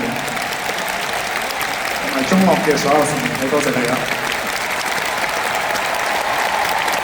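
Concert audience at a live show in Hong Kong applauding the band and Chinese orchestra, a steady wash of clapping and crowd noise running throughout, with someone speaking over it.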